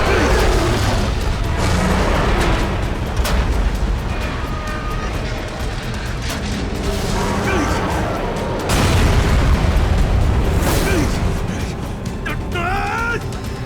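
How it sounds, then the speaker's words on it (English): Rocket launcher explosions in the zombie game Dying Light, loud booms and bursts rolling through dense, continuous game noise and chaos. "they have rocket launchers now"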